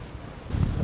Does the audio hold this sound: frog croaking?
no